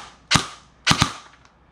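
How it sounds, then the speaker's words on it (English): Airsoft gun fitted with an amplifier fires close by with a snappy, poppy report: a single shot, then a quick double, and a faint fourth pop trailing off. "this one actually has an amplifier on, so that's why it has a little kind of a poppy sound"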